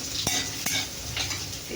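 Spices fry in a pan, giving a steady, close sizzle with a couple of sharp scraping stirs from a utensil, and no talking.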